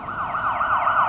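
A police car siren wails steadily in a repeating up-and-down sweep, loud and close, with a high whooping tone layered above and no voices.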